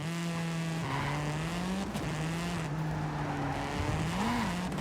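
A stock car races at speed in the Forza Horizon 5 video game, its engine holding a steady high drone that dips briefly on gear shifts, with tires squealing through turns, loud and continuous.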